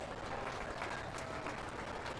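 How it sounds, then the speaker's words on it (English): Crowd applause for exhibitors at a county fair sheep and goat show, a faint, even spread of clapping heard from a distance in a large arena. "Let's give all these exhibitors a really nice round of applause"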